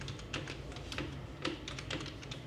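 Typing on a computer keyboard while filling in a document in Microsoft Word: a fast, uneven patter of close key clicks, with a few louder strokes standing out.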